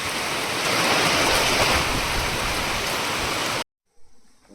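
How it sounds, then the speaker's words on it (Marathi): Heavy rain pours down outdoors in a dense, loud, continuous roar of drops, then cuts off abruptly near the end, leaving only faint scattered noise. "जोरदार पाऊस सुरू झालेला आहे."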